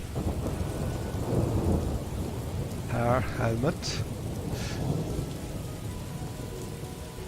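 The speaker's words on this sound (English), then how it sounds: "Oh, that's raining. That's raining." Steady rain pours with rolling thunder in the video game Morrowind, a constant wash of downpour and low rumbles running throughout while a voice speaks briefly in the middle.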